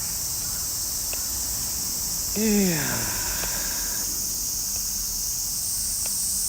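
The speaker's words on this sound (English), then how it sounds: "There's so many cicada here." Many cicadas in the trees of rainy Tokyo keep up a steady, loud, high buzzing drone throughout. A person briefly speaks underneath it.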